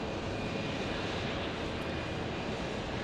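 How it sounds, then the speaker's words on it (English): Airbus A321neo jet engines spool up at Phoenix Sky Harbor Airport, a steady, broad roar with a faint high whine, held evenly and moderately distant throughout. "This sounds like an A321neo spooling up"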